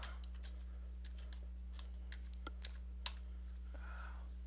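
Typing on a computer keyboard, a run of scattered, uneven key clicks close to the mic over a steady low electrical hum, with no one talking.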